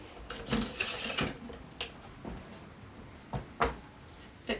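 Camera tripod leg being lengthened, giving a handful of sharp clicks and ratcheting clacks from its locks and swivel feet, spaced irregularly and fairly close, with no talk.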